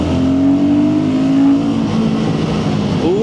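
A Royal Enfield Guerrilla 450 motorcycle engine revs loudly up close, its tone climbing and falling through throttle blips over a deep, steady rumble, with no voices.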